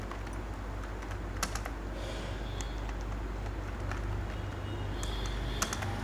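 Computer keyboard typing with Enter key presses while entering vouchers in Tally accounting software: a handful of sharp, separate clicks scattered over a steady low room hum, close by and moderately loud.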